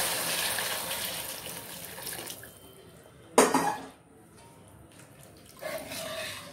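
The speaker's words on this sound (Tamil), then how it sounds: "அதனால நான் சுடு தண்ணி காய வச்சு ஊற்றிடுவேன்" Hot water splashes and pours noisily into a pan of masala, with a sharp sizzling burst midway, then quieter running and another pour toward the end.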